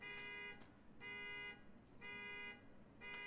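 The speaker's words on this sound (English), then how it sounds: "This is the fourth time that car alarm's gone off" A car alarm going off outside sounds as a repeating electronic tone in pulsing bursts of roughly half a second each, broken by short gaps, steady and moderately loud over a low background rumble.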